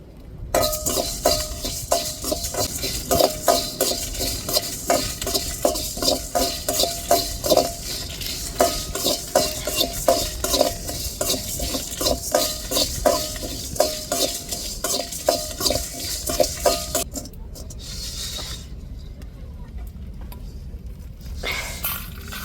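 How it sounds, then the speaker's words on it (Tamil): Masala spices are roasted in a clay pot for crab curry, with a ladle scraping and stirring in a steady rhythmic clatter over a soft sizzle, and the stirring stops near the end. "அதுக்கு தான் மசாலா வறுத்துக்கிட்டு இருக்கோம்"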